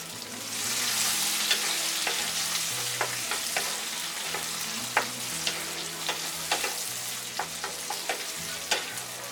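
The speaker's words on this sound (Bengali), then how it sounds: "এখন আমি এতে আমলকিগুলা ঢেলে দিব এবং চুলা গাছটা মিডিয়াম থাকবে" Gooseberries hit hot oil with browned garlic in a pan over medium heat, a bright continuous sizzle punctuated by frequent clicks and scrapes of stirring, with a faint low background hum.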